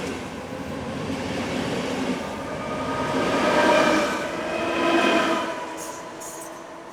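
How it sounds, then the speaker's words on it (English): Czech train units roll through Prague Liben station, among them an ex-German Class 642 diesel unit run by Arriva, a loud, steady rumble with rail clatter that swells as the cars pass close by. "It is passed by ex-German Class 642 unit number 837, operated by Arriva and destined for Prague Hostivar station."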